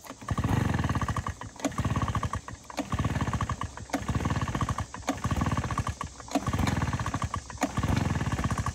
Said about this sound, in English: This is a brand new backpack blower.